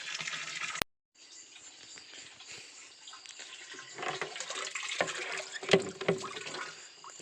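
Water rushing out of a borewell pipe on a farm at night, a continuous splashing flow after a short cut-off near the start, with louder gushes toward the end.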